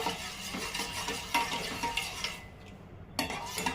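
A spoon stirs a carrot, beetroot and coconut jelly mixture in a pot, with soft repeated scraping and light clinks, close and fairly quiet, with a brief pause before the stirring resumes.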